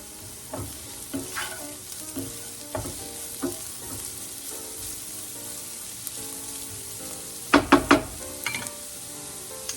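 Bottle gourd sautéing in a pan, giving a steady background sizzle with scattered clinks and scraping stirs, plus a louder cluster of knocks toward the end. No voices are heard.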